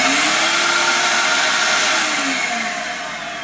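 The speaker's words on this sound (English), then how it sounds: "First, I'll show you the vacuum plugged into the wall outlet." A corded household vacuum cleaner plugged into a wall outlet runs with a loud, steady motor whine that holds close and constant, easing slightly toward the end.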